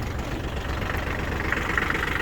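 Steady low idle of an ISEKI GEAS23 Japanese mini tractor engine, a continuous even rumble close by with no voices.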